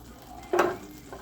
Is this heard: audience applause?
no